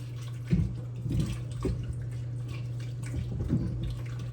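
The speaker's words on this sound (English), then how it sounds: "I put them in cold water, put ice in the cold water as well" Water sloshes and splashes in a basin of iced cold water as cucumbers are washed, in a few irregular bursts, close by, over a steady low electrical hum.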